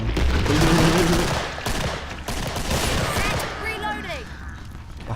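Gunfire from the Killing Floor video game: a loud, rapid burst of shots in the first seconds eases into scattered firing and noisy game action, with a voice talking over parts of it.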